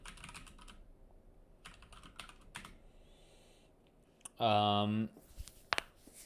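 Quiet, scattered computer keyboard typing in short clusters of clicks, interrupted by a brief loud tonal burst and a sharp click near the end.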